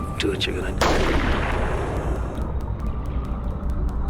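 A single loud gunshot in a dramatic film scene, a sharp blast that trails off into a long rumbling decay, heard over a continuous low background rumble.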